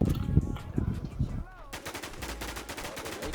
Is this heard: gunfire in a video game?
yes